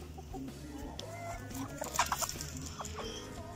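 Young rooster from this year's hatch clucking in a backyard flock, soft repeated clucks with a brief louder burst midway, mixed with other fowl murmuring close by.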